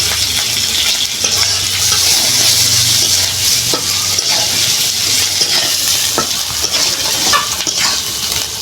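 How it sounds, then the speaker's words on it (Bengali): Hilsa fish pieces fry in a spice masala, producing a loud, continuous, close-up sizzle with occasional clinks and scrapes from stirring utensils against the pan. "ভাজা মশলার ভিতরে এবার মাছগুলো দিয়ে দেবো।"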